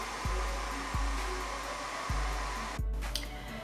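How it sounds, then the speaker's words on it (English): A hair dryer runs with a continuous whooshing hum at close range and no voices, broken by a few short clicks and one brief airflow shift near the end. "I'm gonna turn the dryer on, and then it's gonna like get big and get hot."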